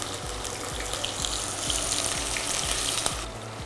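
Onions hit oil tempered with curry leaves for a Thai curry, giving a steady bright sizzle with a low repeating thump underneath, moderately loud and close, with no speech.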